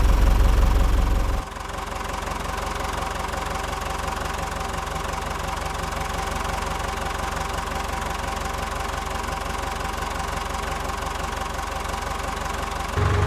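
An ASV PT100 diesel skid steer runs just after a cold start, its engine idling with a steady, loud, even knock that holds for the whole stretch. A heavier low rumble opens the first second and a half before the idle settles.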